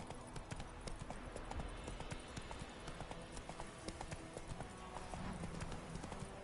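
Roach, the horse in the video game Witcher 3, gallops with a quick, even clip-clop of hooves. The beat keeps up throughout, fairly faint, with game ambience underneath.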